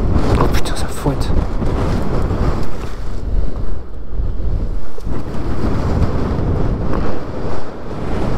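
Strong wind in a sandstorm on a desert road toward Timimoun, Algeria, roaring and buffeting a microphone continuously and loudly, with gusts swelling and dipping throughout; a voice speaks briefly over it.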